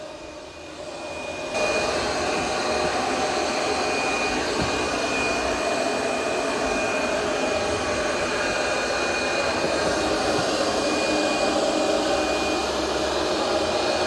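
A Roborock Curv 2 robot vacuum on its first cleaning run starts up with a jump to a loud, steady whooshing hum and a thin high whine, running close and unbroken throughout.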